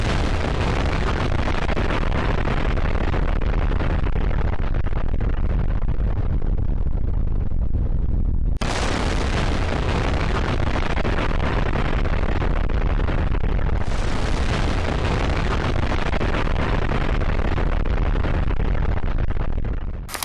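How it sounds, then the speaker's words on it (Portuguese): The Easy nuclear bomb test detonated on 20 April 1951 at the Pacific test zone, heard as a sustained roaring, rumbling blast broken by two abrupt cuts, loud and continuous to the end. "No dia 20 de abril de 1951, a bomba Easy foi detonada na zona de testes do Pacífico."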